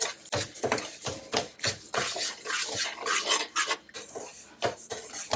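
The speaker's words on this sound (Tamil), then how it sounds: "பச்சரிசி வந்து சீக்கிரமாக பொரியாது, அதனால் கொஞ்சம் பொறுமையாக இருந்து தான் நீங்கள் வறுக்கணும்." Raw rice roasting in a pan for Thiruvathirai kali, stirred with a metal spoon: close, irregular scraping and clinking against the pan with soft rattling between strokes and no talk.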